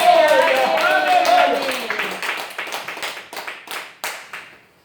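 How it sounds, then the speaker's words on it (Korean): A church congregation at a Sunday worship service claps along, starting under a speaking voice and then settling into a series of separate, sharp clapping beats that fade out. "우리 다 행복하면 박수 한번 쳐."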